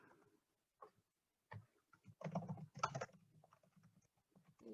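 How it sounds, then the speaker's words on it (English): A computer keyboard typed on in a few short bursts of quiet, close key clicks separated by pauses, with no voices. "I'm going to type in Mississauga."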